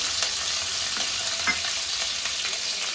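Garlic and chopped green chilies fry in hot oil for khara pongal, a steady broadband sizzle with faint stirring scrapes, close and continuous with no voices.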